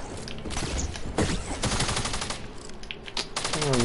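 Rapid bursts of automatic gunfire in a duo video game match, loud and continuous with rattling repeated shots across the whole moment.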